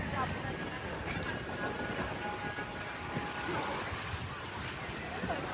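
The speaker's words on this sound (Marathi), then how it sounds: "पूर्ण मोठा समुद्र आहे इथे" Sea waves at night on Radhanagar beach in the Andaman Islands, a soft continuous wash of surf with light wind noise, fairly faint and steady.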